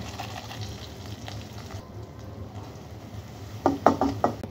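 Cocola noodles frying in a pan with their spice packet and Maggi taste maker, a soft steady sizzle that ends with a few quick clinks of stirring against the pan.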